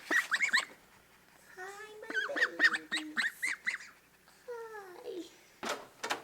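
A small flock of growing ducklings and ducks near water call in a series of soft honking and peeping bursts, fairly close and alone, with brief gaps between calls.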